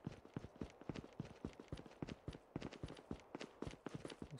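A rapid run of Call of Duty character footsteps, quick repeated hard-surface steps in a steady rhythm, close and fairly loud, with no speech over them.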